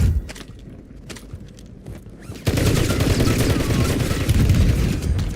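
Gunfire crackles in Warzone, scattered shots at first, then a dense, loud stretch of continuous battle noise with rapid firing and booms in the second half.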